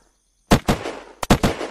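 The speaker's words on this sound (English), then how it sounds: "for this, I'll just use the gun and just use it because I've only got 9 bullets" Gunshots from a gun in the video game Unturned, five sharp close cracks in two quick pairs and a final shot, each with a short decaying tail, with no talking.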